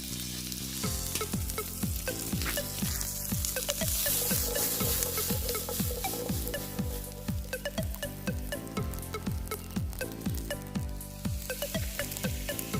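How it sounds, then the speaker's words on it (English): Fish frying in a pan with plenty of garlic and seasoning at a riverside campsite, a loud continuous sizzle with rapid crackling pops and spatter close up, no talking. "fish is in the pan with all that delicious garlic and seasoning"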